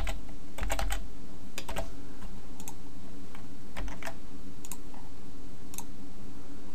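Computer keyboard typing: short bursts of crisp key clicks in uneven clusters, close and clear over a quiet background with no talk.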